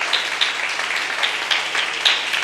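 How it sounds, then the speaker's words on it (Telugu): A small congregation claps for a servant at a worship gathering, a brief spell of scattered, uneven hand claps at moderate volume. "ఒకసారి చప్పట్లు కొడదాం ఆయనకి."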